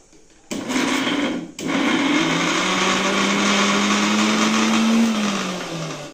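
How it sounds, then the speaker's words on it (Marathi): A kitchen mixer grinder blitzes soybeans to a fine paste, a loud steady motor whine that starts abruptly, cuts out briefly, then runs on continuously with a slowly rising pitch before winding down at the end. "आता सोयाबीन बारीक वाटून घेऊया। सोयाबीन वाटत आहे।"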